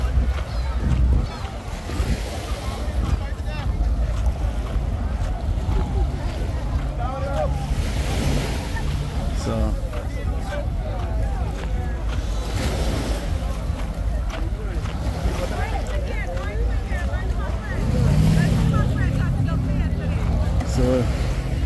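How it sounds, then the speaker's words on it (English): Steady roar of speedboat engines heading out during boat racing in Anguilla, rushing water across open surf, with wind buffeting the microphone throughout and a deeper engine drone swelling near the end. "So you can hear the speedboats heading out."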